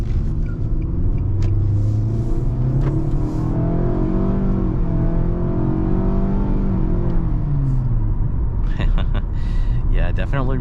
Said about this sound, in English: definitely responsive from a dead stop, and this CVT is actually not laggy at all